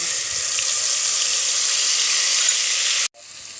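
Masala spice paste hits hot ghee in a pan with black pepper, black cardamom and cumin, giving a loud, steady hiss of sizzling that cuts off abruptly near the end, leaving a quieter low crackle.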